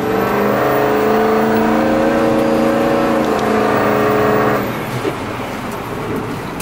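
A Ford F250 truck with a 6.0 Powerstroke diesel engine accelerating hard, a loud close engine drone with rising harmonic tones that build for several seconds, then cut off abruptly into a lower rumble.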